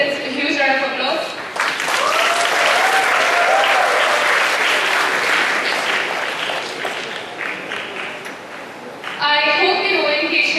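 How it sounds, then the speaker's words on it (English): Applause from a ceremony audience builds into a sustained wash of clapping for several seconds, then thins out. A voice speaks at the start and again at the end. "please go ahead and give yourselves a huge round of applause"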